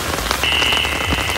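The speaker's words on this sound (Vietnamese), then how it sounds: "trời mưa trời gió này" Heavy rain patters steadily on surfaces outdoors during a stormy rainy-season day in the Vietnamese countryside, loud and close, with a faint tone briefly cutting through; no voices.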